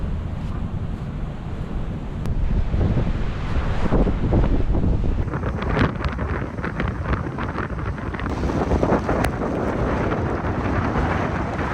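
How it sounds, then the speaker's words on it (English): Strong wind buffets the microphone in heavy, irregular gusts at a clifftop on Fraser Island, with surf roaring in the background. "she's really windy here"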